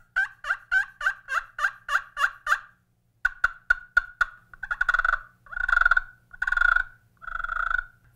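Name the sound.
turkey call imitating turkey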